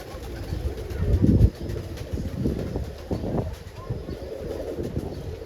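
Roller pigeons, including almond-colored birds, cooing in a loft: soft low repeated coos close by, with a brief muffled flutter and scattered rustling.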